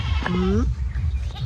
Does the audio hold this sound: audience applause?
no